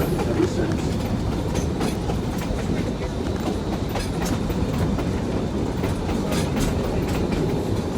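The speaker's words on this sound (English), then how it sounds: "we've been running trains out here every year ever since" A train rolls along railroad track through open country near a curve on a high fill, with a steady, loud rumble of wheels and cars and faint clickety-clack throughout.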